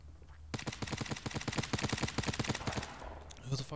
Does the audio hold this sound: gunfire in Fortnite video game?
yes